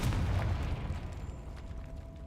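Confringo fire-blast spell in the video game Hogwarts Legacy, a low booming explosion that hits hard at the start and then rumbles and fades over about two seconds, with no talk.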